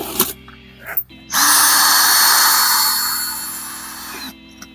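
Two short bursts from a power drill with a worn bit against a wall, then a loud sustained grinding whine for about three seconds that fades before cutting off, close up.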